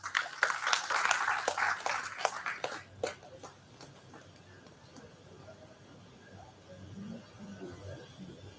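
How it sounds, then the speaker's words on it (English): An audience at a national seminar applauds to welcome a speaker on stage, a dense burst of clapping that fades away after about three seconds, leaving a quiet hall with faint murmurs. "I would like to welcome Dr. Tooraj Neniwal on the stage with a warm round of applause."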